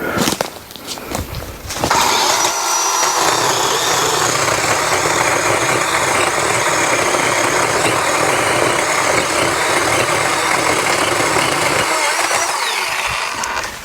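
A Dewalt electric pole saw cuts through a tree limb about 3.5 inches thick, a loud, steady chain-saw whine that starts abruptly and runs at full power without bogging before easing off near the end, with no talk.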